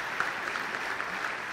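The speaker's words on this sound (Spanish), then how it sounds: "Benji, Felipe, José López, un aplauso para ellos que tienen un trabajo excelente." An audience at a live concert tribute applauds the musicians in a brief, moderate burst of steady clapping at a distance.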